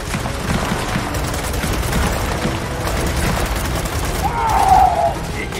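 Rapid gunfire crackles through a firefight in Gears of War 4, dense bursts of shots and booms heard steadily across the scene, with a player's voice over the action.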